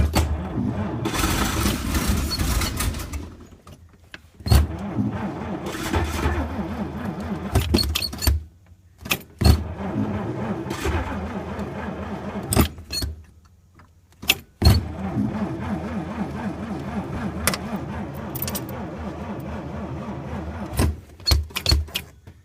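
A 1932 Oldsmobile engine is cranked over in bursts, with a rapid mechanical churning from the starter broken by pauses and sharp clicks, heard up close and fairly quiet.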